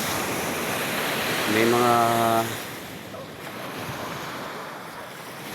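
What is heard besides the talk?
ocean waves and wind on the seashore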